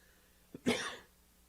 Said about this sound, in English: And I can't get rid of this cough.